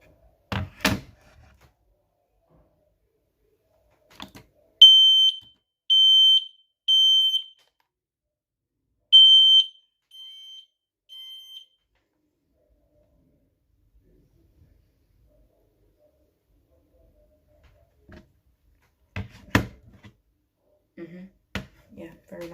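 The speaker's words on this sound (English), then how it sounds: "Like, smoke alarm." A smoke alarm still in its box sounds a series of loud, piercing beeps in short bursts, three together then one more with fainter trailing chirps, followed by quiet and then thuds and talk.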